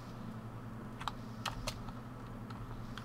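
Keys clack on a computer keyboard during a gaming session, with a few sharp, scattered keystrokes over a steady low hum, moderately close and with no speech.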